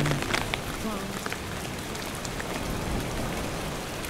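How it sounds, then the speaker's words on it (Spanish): Heavy rain pours steadily during a morning hunt on a rough hillside stand, a dense hiss of drops drumming on surfaces throughout, with faint indistinct voices near the start. "A lo largo de toda la mañana la lluvia nos acompañó."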